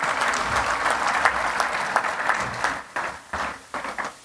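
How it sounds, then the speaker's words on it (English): A crowd applauds to welcome a representative of the Australian government at a goodwill gathering: steady, fairly loud clapping throughout, thinning into scattered claps near the end. "So a big round of applause for him,"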